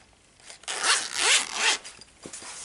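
Zipper on a cheap little pencil case holding watercolour pencils, drawn open in a few quick, close, raspy pulls that grow loud in the middle and end with a short tug.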